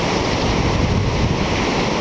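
Ocean waves at Sendai Shinko beach in Sendai New Port, a steady broad wash of surf mixed with wind rumble against the microphone, continuous and loud with no talking.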